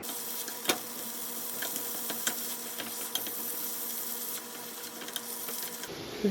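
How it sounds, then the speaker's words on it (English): Garlic sautéing in a pan, a soft, steady sizzle with faint ticks and occasional stirring clicks, quiet and close with no talk. "we're going to saute this for a little bit, a few seconds"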